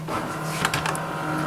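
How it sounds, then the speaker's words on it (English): An embroidery-quilting machine drives its hoop across fabric in a scanning pass, giving a steady close mechanical whir with a low motor hum and brief higher clicks and squeaks. "So it's going to start moving your hoop and scanning the fabric."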